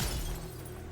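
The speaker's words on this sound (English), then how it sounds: "The crystals rising around Grave's body shatter and scatter all over." Crystals shattering and scattering in the game NIKKE: a loud, broad crash that bursts at once and then trails off into a scattering decay, heard alone without talk.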